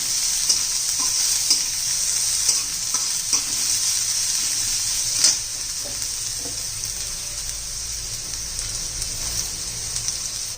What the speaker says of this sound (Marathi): त्यात कांदा घालायचा